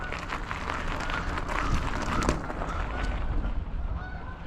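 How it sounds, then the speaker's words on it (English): Geese honking in a busy outdoor scene, their calls rising over a steady background roar of wind or traffic throughout. "You hear the goose honking along here."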